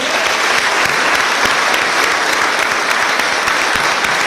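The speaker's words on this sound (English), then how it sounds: "Jen, round of applause for Jen Smith." An audience at a university press conference gives a sustained round of applause, with dense, even, loud clapping throughout and no talking.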